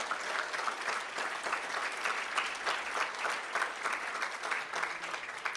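Audience at a school board meeting claps for the parents of orchestra students, sustained, even applause from a roomful of people lasting several seconds, with no talk over it.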